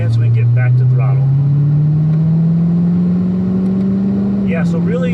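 A 2019 Corvette ZR1 engine drones loud and steady on a racetrack, its pitch rising slowly as it accelerates, with brief voices talking over it.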